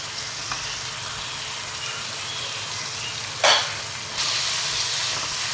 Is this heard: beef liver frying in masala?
yes